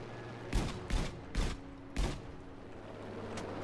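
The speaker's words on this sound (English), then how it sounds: "Oh, I hit him for 34 with the cannon pods." A Stuka dive bomber's cannon pods firing in Battlefield 5, heard as four heavy, evenly spaced thudding shots in quick succession over a low engine drone, followed by one fainter shot.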